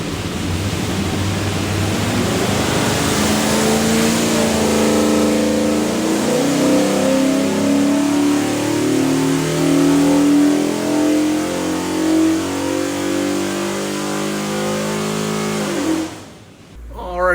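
A 347 cubic inch stroker Ford small-block V8 with hydraulic roller cam and Aviaid oil pan runs on a dyno, holding a loud, steady roar that climbs in pitch for about sixteen seconds before cutting off abruptly.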